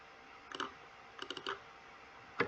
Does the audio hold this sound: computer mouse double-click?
yes